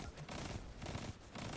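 Rapid gunfire from a portable cannon in Destiny 2 chatters in a dense, continuous burst for under two seconds, steady and fairly loud throughout.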